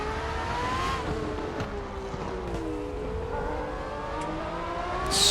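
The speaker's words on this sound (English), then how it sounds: "So much noise coming out of these cars, absolutely awesome." FR X-90 race cars at Silverstone, heard from inside a car's airbox as a steady engine drone. Higher rising and falling whines from other cars pass over the drone, and a louder surge builds at the end.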